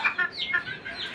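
Chickens kept at home, including newly bought hens, give a quick burst of close, sharp clucks lasting about a second.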